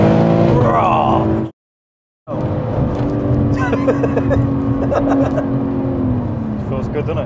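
A 1300hp turbocharged BMW M3 accelerates hard with a loud, rising engine note heard from inside the car, broken by a short gap, while people talk over it.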